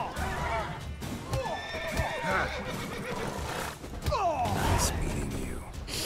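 Frightened horses neigh and whinny in The Witcher 3, with repeated loud, shrill calls over clip-clopping hooves and a busy game soundscape; a voice is heard in the mix.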